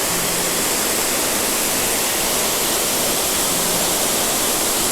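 Water pours steadily over the waterfall at Falling Waters State Park in Florida, making a loud, close, unbroken broadband roar of falling water with no voices over it.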